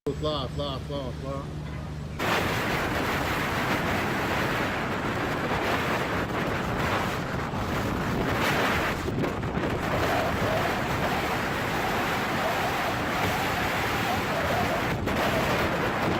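Storm wind and crashing waves roar around a large Dutch-flagged fishing vessel at sea, a dense, loud, unbroken rush with brief thuds, following a short stretch of other sound.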